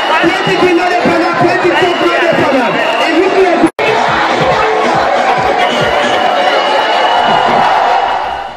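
A large crowd gathered in Kailahun town, Sierra Leone, fills the air with loud, continuous chatter, cheering and whoops, with a sharp break partway through before the din resumes.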